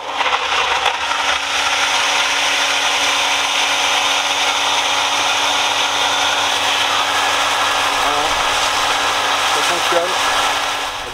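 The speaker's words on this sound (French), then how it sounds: "Donc j'allume la pompe." A restored sump pump runs after being switched on, pushing water out through a garden hose. Its motor gives a loud, steady, close whir that holds level for the whole stretch.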